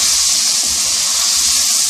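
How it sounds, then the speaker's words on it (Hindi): Potatoes frying with spices in a pan just after a couple of tablespoons of water are added, giving a loud, steady hiss and sizzle with soft low bubbling throughout. "मसाले जले नहीं, इसलिए मैं इसके अंदर 2 टेबलस्पून पानी ऐड कर रही हूँ"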